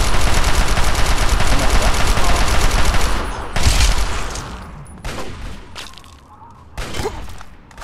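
Dense, continuous gunfire from Fallout 3 pours out loud for about three seconds, then breaks into a few scattered bursts and single shots with quieter gaps between them.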